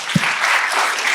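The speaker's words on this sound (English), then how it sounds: "another round of applause for Ambassador Michael McFaul" An audience applauds in an event hall, with dense, steady clapping throughout the short moment and a single low thump near the start.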